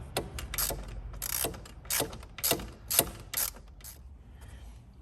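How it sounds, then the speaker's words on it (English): A ratchet wrench tightens bolts on the intake manifold of a Ford Ranger 3.2 diesel. It makes about eight bursts of close, crisp pawl clicking, steady and fairly quick, with short pauses between strokes and no talking. "So I'm just doing both bolts at the same time, a little bit on each, just so it tightens up evenly."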